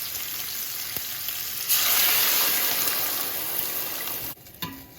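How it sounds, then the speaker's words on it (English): Water poured into a hot pan of frying hot and sweet Italian sausage balls, the steady sizzle swelling into a louder, hissing rush that holds for a few seconds and then drops off sharply, close and with no talking. "And I'm going to add some water to this."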